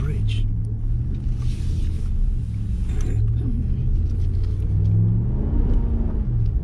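A Ram 1500 Big Horn 4WD pickup accelerates on a snowy road, heard as a steady low engine rumble and drivetrain hum from inside the cab, with someone talking over it.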